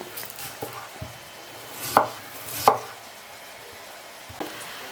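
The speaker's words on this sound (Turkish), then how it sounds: "belə qəşəng kubik deyəndə ki, bu girdə də qəşəng doğrayırıq" Potatoes being diced into cubes with a knife on a cutting board, a series of close knocks with a few louder chops spaced unevenly, no talk.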